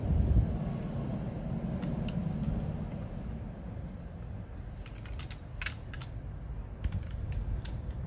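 Quiet metallic clicks and light scrapes come from a Kalashnikov rifle as its gas tube is worked loose and lifted off, in a few scattered taps against a faint background hiss.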